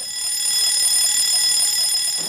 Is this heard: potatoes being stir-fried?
no